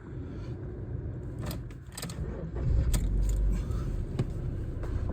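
A 2006 Ford Fusion with a 1.6 Zetec engine cranks and starts, then settles into a steady idle, preceded by a brief jangle of keys; close and fairly loud, with no speech.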